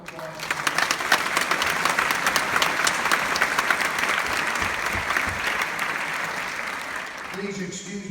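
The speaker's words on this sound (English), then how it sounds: "So a little round of applause." Audience applause fills a hall after a concert at an honorary doctorate ceremony, a dense, steady wash of clapping that holds for several seconds before thinning out at the end.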